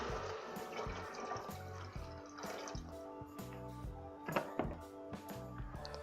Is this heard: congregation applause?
no